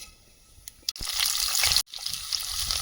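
Panch phoron spices hit hot oil in a wok with a sudden crackling sizzle that runs steadily for about a second, breaks off briefly, then resumes close and moderately loud.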